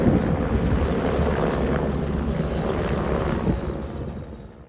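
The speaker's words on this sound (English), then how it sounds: "try not to be interrupted by this massive helicopter" A large Merlin helicopter flies around overhead at a mountain campsite, its rotor and engine roar steady and fairly loud throughout, easing slightly toward the end with no talking.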